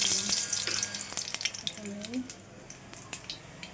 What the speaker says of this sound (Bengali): কড়াইতে তেল দিয়েছি তেলের উপরে কালো দিয়েছি